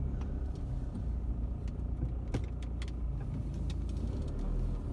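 A car heading home on an hour-long drive, heard from inside the cabin: a steady, deep road and engine rumble with a few faint ticks and rattles over it.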